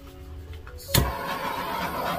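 A handheld torch ignites with a sudden whoosh over poured fluid art paint, then settles into a steady, close, roaring hiss after a brief quieter moment.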